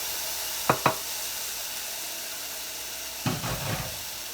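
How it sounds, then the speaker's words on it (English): Ground beef browning in a pan without added oil for chili, a soft steady sizzle with a few sharp scrapes of stirring, close and fairly quiet with no talk. "And now I will brown the ground beef."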